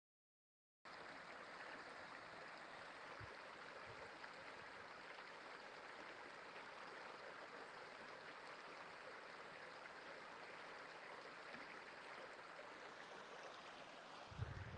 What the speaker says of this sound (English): that is the soothing sound of the water flowing through the forest